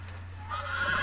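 Horse in the Game of Thrones video game gives a short whinny that rises near the end of a one-second moment, heard over a steady low hum with no talking.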